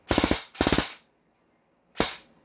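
M4A1 CQB airsoft carbine fires two quick rapid bursts of sharp clattering shots, then one more single shot after a pause, close and crisp with silence between.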